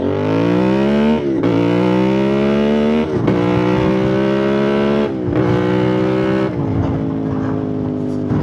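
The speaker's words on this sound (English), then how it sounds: "listen to the exhaust" A CFMoto 450MT motorcycle revs loudly and close, its exhaust note climbing through the gears in repeated rising sweeps with brief drops between shifts.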